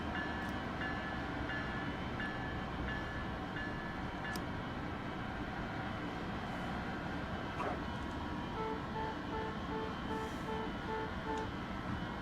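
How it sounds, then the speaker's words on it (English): A passenger train runs and slows toward a station stop in Train Sim World 6, a continuous rail rumble with tonal hums and a few sharp clanks, then repeated beeping cab tones near the end. "Now you definitely want to stop the train a little bit smoother than that."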